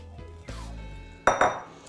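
Metal clinks and scrapes of a utensil against a tart pan as fruit in syrupy juices is spread out, a few close, sharp taps in quick succession with no talking.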